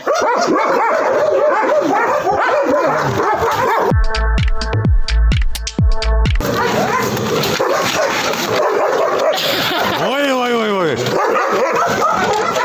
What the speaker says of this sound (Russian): Не лай так сильно.